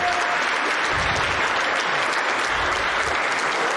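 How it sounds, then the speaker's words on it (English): Audience applause at the Miss Samoa beauty pageant, a thick wash of clapping from a large crowd that stays even and loud from start to finish, with faint low rumbles underneath. "How about you guys give them another round of applause?"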